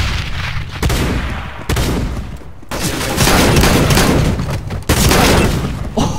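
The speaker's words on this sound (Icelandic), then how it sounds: "Ég setti eitt skot í og skaut bara" Rapid gunfire from a video game match, loud and dense bursts of shots with brief pauses between volleys.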